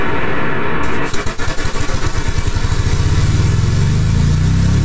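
A steam engine in Steam Engine Simulator, running unbraked at high pressure, starts chuffing in loud separate beats that quickly speed up into a continuous fast rumbling drone rising in pitch.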